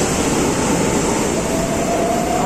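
A São Paulo metro train arriving at Sé station fills the platform with a loud, steady roar, and a thin rising whine appears partway through.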